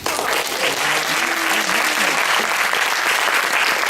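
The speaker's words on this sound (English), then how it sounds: "I would really like a tremendous applause for my mom" Audience applause at a film premiere cast and crew Q&A, a dense steady wash of clapping from a crowd lasting throughout, with faint voices briefly audible underneath near the start.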